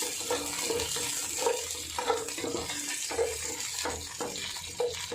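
Curry leaves fry in oil in a pan for chicken varattu while being stirred, giving a steady close sizzle with repeated scraping strokes of the spoon and no voices.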